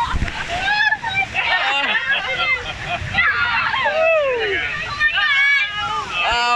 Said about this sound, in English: Oh no, we're about to get sprinkled on.